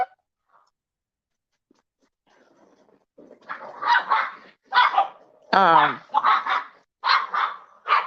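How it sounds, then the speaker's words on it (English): Dogs playing in the background, giving several short barks and yips in bursts that rise to a loud, close volley near the end, after a quiet opening with a brief spoken filler word. "the background is the dogs playing."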